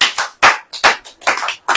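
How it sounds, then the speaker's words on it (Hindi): Hands clap together in a church congregation during a Hindi sermon, a loud group applause rising and falling in four or five quick bursts with brief gaps between them. "ताली बजाओ।"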